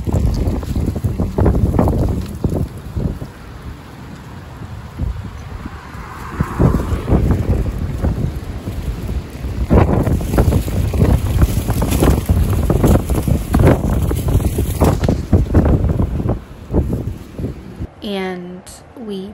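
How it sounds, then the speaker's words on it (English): Strong wind blows outdoors, buffeting the microphone with heavy, gusty rumbling roar throughout, while people talk intermittently underneath and a few chirping sounds appear near the end. "it's way too windy"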